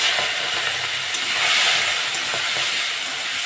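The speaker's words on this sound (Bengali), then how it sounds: "চিংড়ি মাছটা দিয়ে একটু ভেজে দেবো" Prawns fry in a pan of oil with a dense, steady sizzle and occasional stirring scrapes, close and loud throughout, with no voices.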